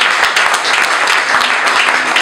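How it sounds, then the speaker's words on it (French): Audience applause at a fourth-anniversary celebration event, a dense, steady burst of many hands clapping throughout, loud and close, with no talk over it. "Je vais vous demander vraiment de l'applaudir"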